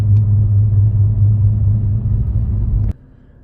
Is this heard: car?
yes